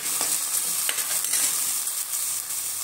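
Masala sizzles and fries steadily in a hot pan while being stirred, a dense crackling hiss with small bursts, close and continuous with no talking, cooking for aloo gobi mater.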